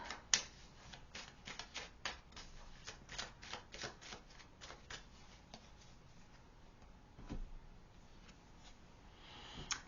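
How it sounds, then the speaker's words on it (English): Tarot cards being shuffled by hand in a string of quick, papery riffles and taps, close and fairly quiet, with a brief pause before a few more soft flicks. "Let's shuffle some more cards for you."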